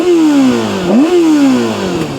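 A Kawasaki ZX6R supersport on its stock exhaust, sitting in neutral and revving hard: a loud, close, high-pitched engine whine that dips and climbs again, with no voices.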